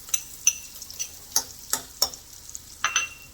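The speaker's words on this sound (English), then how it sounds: "So we're going to add a little more butter." About two tablespoons of butter sizzle in a pan used for a pork loin sauce, with a rhythmic series of sharp stirring clicks and scrapes over a soft frying hiss, close and fairly quiet.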